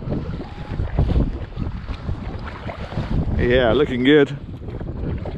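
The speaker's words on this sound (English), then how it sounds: "We had a few ripples bouncing against the hull." A small boat drifts on a lake with steady wind buffeting the microphone and light water sloshing against the hull, while a person briefly talks.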